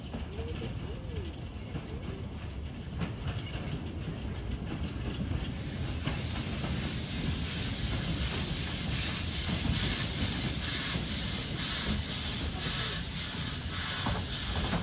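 A narrow-gauge 0-6-0 Decauville Type 17 well-tank steam locomotive, built in 1916, hauls its train along a line beside the Somme Canal, with steady steam hiss, rumbling wheels and clickety-clack on the rails, a voice speaking over it.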